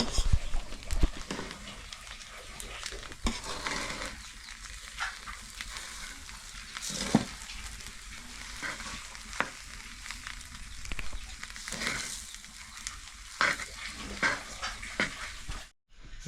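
Rice sizzles in a hot pan while being stir-fried into sinangag, Filipino garlic fried rice, with steady frying hiss broken by scraping spatula strokes and occasional clanks.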